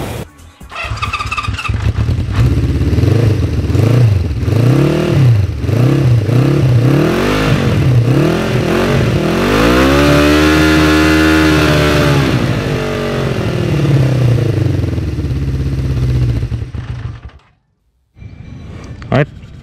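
A historic motorcycle engine is revved in a run of quick, rising and falling bursts, held at a steady high pitch, then cut off near the end. The engine is close and loud throughout.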